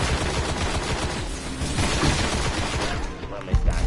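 Continuous, dense gunfire in Destiny, loud and crackling throughout, with a heavier burst near the end.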